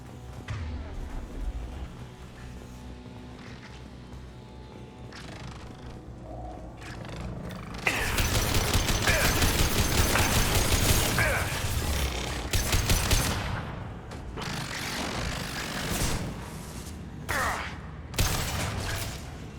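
Defensive turret gunfire in Mass Effect Legendary Edition: loud, sustained bursts of rapid automatic fire that start partway through and keep going in dense volleys over a rumbling battle background, with sharp individual shots near the end.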